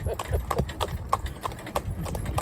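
A small pony walks with steady clip-clopping hooves on firm ground, a regular rhythm of sharp, fairly close hoof strikes that keeps up throughout.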